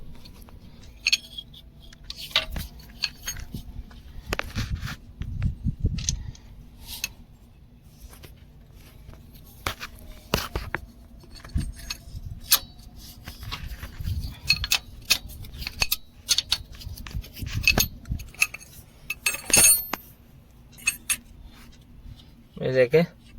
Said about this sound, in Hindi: अभी सेल्फ का बोल्ट खोल देते हैं।